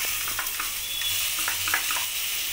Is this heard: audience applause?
no